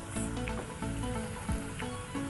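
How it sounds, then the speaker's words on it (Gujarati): Eggplant fries in hot oil in a kitchen cooking show, a soft, steady sizzle with faint crackles and light stirring, low in level with no talk. "રીંગણ તળાય"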